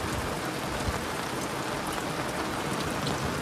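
Heavy rain pours down steadily over a riverside campsite with a camper van and small awning, a dense, loud, continuous hiss of drops on surfaces that has no pauses and no voices.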